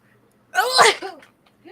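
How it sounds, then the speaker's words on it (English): A single sharp sneeze, loud and close, followed by a short breathy sound and a faint voice. "That was like the weirdest sneeze."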